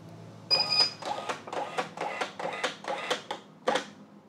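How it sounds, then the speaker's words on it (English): An XPrinter XP-365B Bluetooth receipt printer prints in a run of quick, rhythmic mechanical bursts with a brief high whine at the start, close and fairly loud, with no talking over it. "our printer is connected and it is printing receipt from Bluetooth connection"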